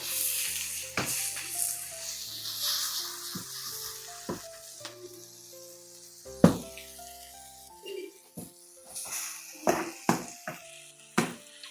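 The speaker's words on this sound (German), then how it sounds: "das Gemüse ist jetzt ca. 5 Minuten schön scharf angebraten worden" Chopped vegetables sear hard in a hot pan for a goose leg dish, giving a continuous sizzle. Sharp knocks and scrapes of stirring break in at irregular moments, close up and without speech.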